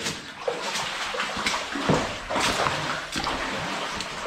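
Water splashing and trickling nearby inside a slate mine, with irregular sloshing bursts and drips.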